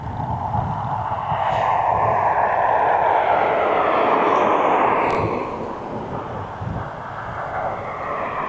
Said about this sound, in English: That's a Max 8, another Max 8. This one's going, coming in from Palma,